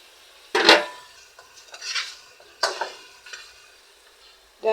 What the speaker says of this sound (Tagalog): Takpan muna natin siya mga kamami.